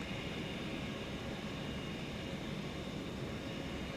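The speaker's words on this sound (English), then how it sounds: "Airbus A321neo." Steady, even roar of Airbus A321neo jet engines at DFW Airport at night, a broad continuous rumble held at constant level throughout, with no voices.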